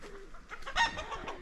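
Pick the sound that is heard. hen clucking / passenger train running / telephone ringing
hen clucking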